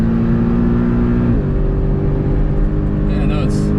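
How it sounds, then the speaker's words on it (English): Porsche Cayman GTS engine bouncing loudly off its rev limiter on a hot lap of the Ring, a steady dense drone close by that shifts pitch partway through, with talking over it. "some rev limiter action there"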